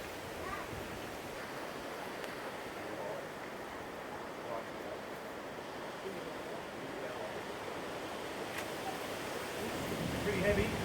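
Wind gusts steadily across the microphone on a windy day during a bee swarm capture outdoors, a constant broadband rush that builds slightly toward the end.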